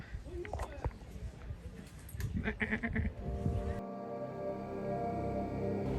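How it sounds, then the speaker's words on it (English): A goat bleating in the countryside of Ninh Binh, Vietnam, a few short nasal bleats close by, mixed with a voice and some outdoor rustle. "Hey, little goat."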